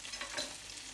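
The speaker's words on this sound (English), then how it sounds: "I've also got some fine shavings of garlic here. So I'm just going to drop them in there. Get them cooking." Fine garlic shavings fry in a pan for pasta, producing a quiet, close crackling sizzle with a few small pops; faint and brief, with no talk.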